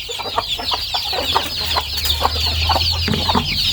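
Thai native hen with young chicks gives steady soft clucks and peeps, with faint rooster calls mixed in around a morning farmyard feeding, fairly close and continuous, with no talk.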